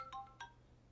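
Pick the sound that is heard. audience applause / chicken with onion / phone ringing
phone ringing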